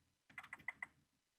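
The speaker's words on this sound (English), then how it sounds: "if I hold Alt and press the arrow on my keyboard, up or down" Arrow keys on a computer keyboard are pressed in five quick, light clicks, close and fairly evenly spaced, in an otherwise quiet room.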